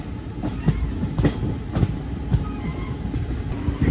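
Venkatadri Express speeding through Malakpet station without stopping, a steady loud rumble of wheels on rail with rhythmic clickety-clack joints and metallic clatter, close and continuous with no voices.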